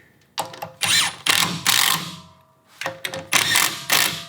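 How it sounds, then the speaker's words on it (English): Screws being driven tight into the top rail of a Regal Ideas deck railing, with bursts of whirring, ratcheting power-driver noise in two groups separated by a short pause, close and loud. "So I'm gonna tighten these screws back up now that I got my top rail in."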